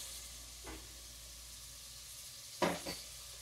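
Peppers, onions and ham dropping into a hot pan, giving a low steady sizzle with two short louder bursts of hissing as ingredients hit the oil, close and without talk.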